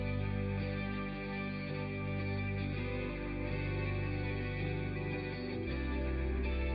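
Guitar joins a dense, heavily processed song mix with chorus, echo and distortion effects, the full layered sound staying loud and continuous throughout, with the bass shifting near the end and a brief word spoken over it.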